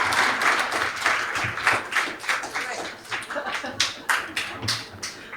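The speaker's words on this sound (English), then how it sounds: "Yes, round of applause, please." A crowd claps in a brief burst of applause, uneven and lively, with voices mixed in underneath.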